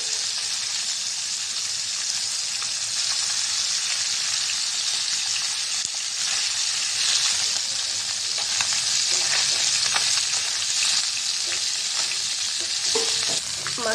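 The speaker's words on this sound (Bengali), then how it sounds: "শিং মাছটা উল্টাই দিব, বেশি ভাজা ভাজা করবো না, মাছটা হালকা ভেজে নিয়েছি।" Stinging catfish fries lightly in a pan, giving a loud, steady, close-up sizzle that runs unbroken with a faint crackle and no speech.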